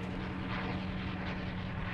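An airplane drones overhead in the Fortnite video game, a steady, loud engine hum with a constant low tone and broadband rush, held evenly across two seconds without voices.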